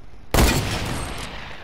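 A single loud, close gunshot in Fortnite bursts out suddenly after a quiet moment and rings off into a lingering noisy tail.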